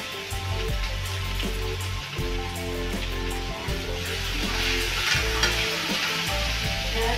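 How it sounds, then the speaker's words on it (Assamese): Egg manchurian fries in a pan with turmeric and Maggi masala, giving a steady, dense sizzle with faint stirring scrapes throughout and no speech. "এতিয়া অলপ দেৰি ভাজি থাকিব লাগিব।"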